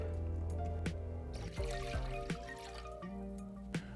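Vinegar and water poured for a pickling brine for quick pickled jalapeños, a steady close trickle of liquid with a few brief clinks and knocks, no talking.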